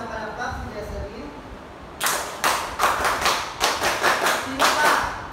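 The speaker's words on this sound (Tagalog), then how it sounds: "Bigyan niya natin ng 11 palakpak si Jesseline." A classroom of students claps in a counted rhythm of about eleven sharp, loud claps in honour of one student, starting after a quieter stretch.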